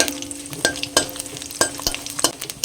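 Whole spices (bay leaves, cloves, cardamom, cinnamon and cumin seeds) fry in hot mustard oil with a constant crackling sizzle, punctuated by sharp clinks and scrapes of stirring in the pan.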